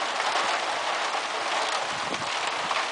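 Heavy rain pours steadily in the city of Sertãozinho, a dense, continuous hiss of drops on surfaces, loud and close with no break.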